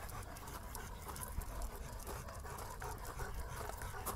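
Dog panting at a dog beach in Italy, a steady breathy rhythm close by over constant beach noise, with no talking.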